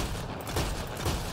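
Rapid gunfire in the video game Mass Effect Andromeda as bugs are shot, a short dense burst of overlapping shots with no talk.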